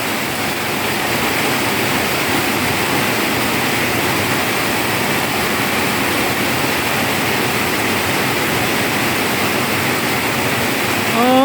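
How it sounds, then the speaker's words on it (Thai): Heavy rain pours continuously onto a cowshed roof, a loud, dense, unbroken hiss and roar that stays steady throughout with no talking. "ฝนตกมาอีกแล้วครับพี่น้อง"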